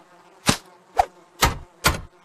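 Indoors, air is blown at bees to push them out, giving four short whooshing puffs at roughly even intervals, close and moderately loud with a faint buzzing hum beneath.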